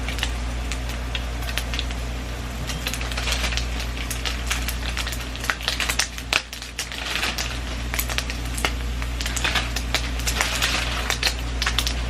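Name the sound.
turkey bacon frying in a skillet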